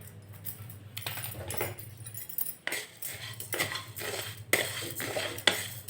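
A spoon scrapes and stirs rice roasting in a dry pan, making intermittent bursts of gritty scraping and light metallic clinks, close up with quiet gaps between strokes.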